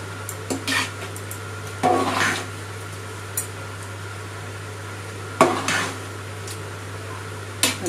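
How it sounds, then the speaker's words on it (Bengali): Khichuri of rice and lentils gets stirred in a pot, with several distinct scraping and clanking strokes of a spoon against the vessel spaced irregularly over a steady low hum, with no speech. "ভালো করে মিশিয়ে নিলাম।"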